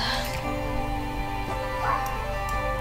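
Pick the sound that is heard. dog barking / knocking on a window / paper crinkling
dog barking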